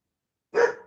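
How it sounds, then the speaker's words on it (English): A dog barks once in a single short, fairly loud burst that starts halfway in and trails off, with no talk around it. "Can you hear the dog barking?"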